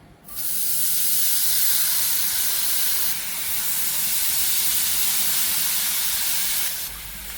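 Vegetables fry in a pan as their water cooks off, giving a loud, continuous hissing sizzle that barely wavers and briefly softens twice, with no voices.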